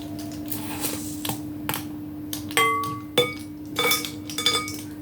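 Metal measuring spoons clink and clatter as they are handled while bread ingredients are measured out. Several bright, scattered metallic taps and jingles sound close by against a steady background hum, with no talking.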